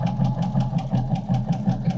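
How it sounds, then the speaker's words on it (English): A sewing machine stitches over the quilted tree shapes. It makes a steady, close, rhythmic chatter of quick repeated needle strokes with an even pace throughout. "we're gonna stitch on top of each tree"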